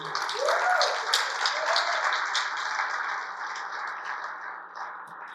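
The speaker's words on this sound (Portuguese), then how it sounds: "Você pode dar um aplauso ao Senhor?" A church congregation gives applause to the Lord, a sustained wash of clapping heard at some distance, with faint voices and shouts mixed in that slowly fade.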